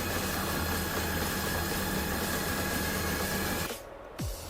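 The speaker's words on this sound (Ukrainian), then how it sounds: "І насос повинен працювати до тих пір, поки з піногенератора не піде чиста вода." A fire pump engine runs loud and steady close by, pumping water through a foam generator, with a whining hiss, then drops off abruptly near the end as the noise cuts out.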